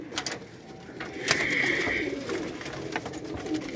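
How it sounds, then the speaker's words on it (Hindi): Sialkoti pigeons cooing softly in a loft, low murmuring coos running steadily through the clip with faint rustling and a brief brighter call midway, no talking. "व्यूअर चेक करें कबूतर, सियालकोटी कबूतर प्योरिटी में कबूतर है"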